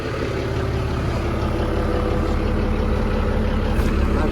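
A Volvo TAMD marine diesel engine idles steadily after a coolant change, giving a loud, continuous low drone with an even mechanical rumble throughout.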